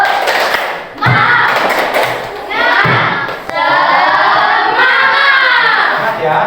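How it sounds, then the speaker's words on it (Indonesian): A class of Indonesian schoolchildren performs the tepuk semangat clapping chant, with loud sharp hand claps and thuds mixed with their voices calling out together in a rhythmic group cheer. "Sekarang coba tepuk semangat."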